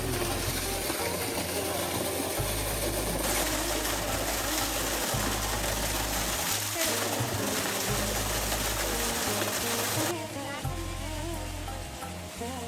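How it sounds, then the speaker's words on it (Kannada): Water gushes hard into a village well in a steady, loud rushing wash that runs without a break, with a mechanical rattle and some indistinct voices beneath it. "ಅದ್ರಲ್ಲಿ ಜೋರಾಗಿ ಬರ್ತಾ ಇದೆ ನೀರು"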